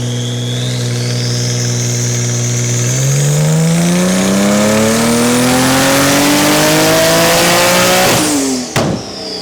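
Tuned Porsche 991 engine with ES1300 turbos on a dyno, pump fuel, revving in one long sweep as the pitch climbs steadily under load, loud and close, then cutting off abruptly near the end with a sharp pop.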